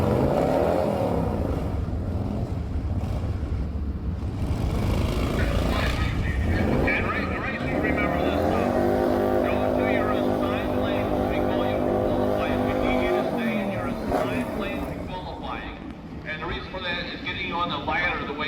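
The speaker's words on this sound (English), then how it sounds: "we got some bikes coming up. Heading into the burnout box." Drag-racing motorcycles roll up toward the burnout box at a dragstrip, a loud, steady engine drone that swells into a rising, revving pitch sweep and then eases off, with an announcer talking over it.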